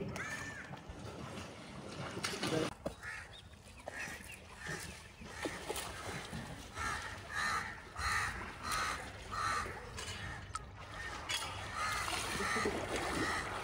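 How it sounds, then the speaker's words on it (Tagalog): Crows caw repeatedly at a beach resort by the water in Umm Al Quwain, harsh calls rising at moderate distance over splashing and ambient noise, with faint voices in the background. "Ang ingay ng uwak"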